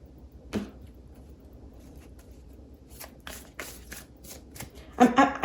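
A deck of cards is shuffled by hand for a card reading, with soft rustling and a run of quick riffling flicks near the end, close and fairly quiet.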